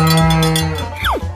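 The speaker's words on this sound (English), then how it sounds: "Cow." A cow moos in a long, low drawn-out call, close by, ending with a short rising note.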